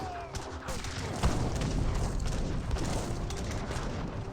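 Culverins and cannon exchange fire in an Age of Empires 3 battle: a continuous rumble of booms and crackling volleys, with a sharp louder blast near the middle, under a commentator's voice.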